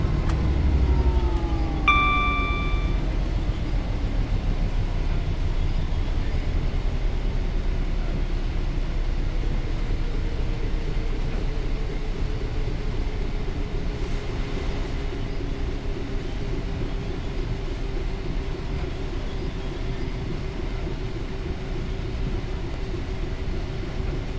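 A Class 66 locomotive hauls freight service 6M92, West Thurrock Sidings to Tunstead Sidings, past a trackside spot at Pink Shed. A steady, loud low rumble and rolling wagon noise run throughout, with a brief horn-like tone near the start.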